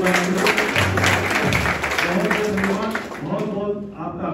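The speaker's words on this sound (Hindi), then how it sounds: "जोरदार ताली बजाकर एक बार" Applause from a crowd at an influencer meet, rising over loud amplified speech and background music, clapping dense at first then thinning out toward the end.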